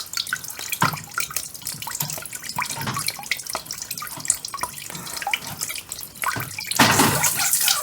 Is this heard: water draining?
yes